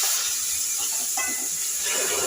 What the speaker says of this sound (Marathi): आता आपण जे पाणी उकळत ठेवलं होतं ते ह्यामध्ये टाकणार आहोत